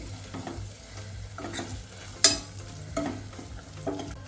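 Turmeric sautéing in a pan for pepper tomato rasam, a soft intermittent sizzle with occasional stirring clinks and scrapes of a spoon, close and fairly quiet.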